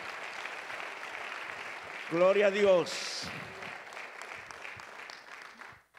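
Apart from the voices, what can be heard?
church congregation applauding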